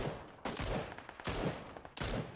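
Several bursts of gunfire in the battle royale game PUBG, three sharp volleys spaced apart at moderate distance, each decaying quickly, with no voices.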